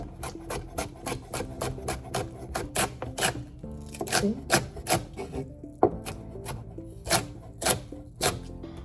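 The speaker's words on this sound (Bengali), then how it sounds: "এখন মামি কাঁচামরিচ কাটবো, এই যে এইভাবে দেখো" A knife chops green chilies on a board in quick, even strokes, each sharp tap close and distinct, with brief pauses breaking the rhythm.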